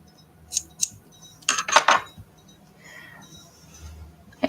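Scissors snip through material while making medieval-style cat art dolls, a few short crisp cuts close by with a brief flurry of snips in the middle and faint handling noises between them.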